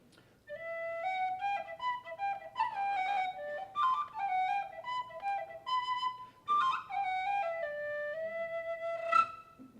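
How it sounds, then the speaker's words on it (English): A penny whistle, also called an Irish or tin whistle, plays a lively melody of quick bright notes and ornaments, fairly close and moderately soft, with no talking. "This is a penny whistle, also known as an Irish whistle or a tin whistle"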